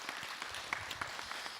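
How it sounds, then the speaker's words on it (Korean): Audience applause greets a speaker at a Buddhist monk's question-and-answer dharma talk, heard as a faint, steady patter of clapping from across the hall. "박수로 맞으세요"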